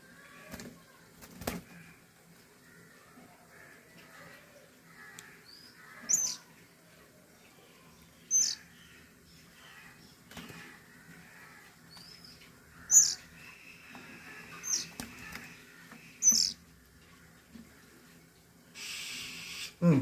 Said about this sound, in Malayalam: ഉണ്ടോ മണ്ണാത്തി കിളിയാണ് മണ്ണാത്തി